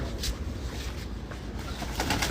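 Pigeons coo nearby on a rooftop loft during a pigeon-flying day, in soft, low, throaty murmurs, with a faint flutter of wings.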